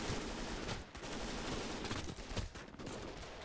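Dense gunfire in a Gates of Hell battle, sustained rifle and machine-gun fusillades overlapping without pause, loud and continuous, with no voices.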